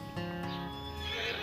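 A horse in the video game Farming Simulator 20 gives a loud, clear neigh, a rising then falling whinny lasting over a second, heard alone and up close.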